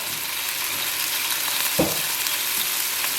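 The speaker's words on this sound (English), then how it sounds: "we're just going to stir these around for a bit and let them cook together" Fresh ground turmeric and spices fry in a pan for Manadonese basil chicken, giving a constant close sizzle. A single brief scrape of stirring breaks through midway.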